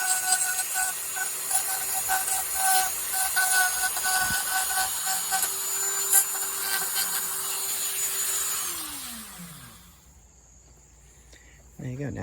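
A rotary carving bit buzzes against wood while smoothing over a wood spirit carving, a steady close whine with scraping texture that winds down and stops near the end.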